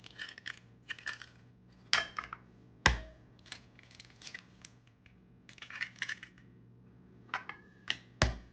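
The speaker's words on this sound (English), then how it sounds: "Crack the eggs." Eggs being cracked for a Persian spinach omelet: a series of sharp, close taps and crisp shell cracks at irregular intervals, with no talking.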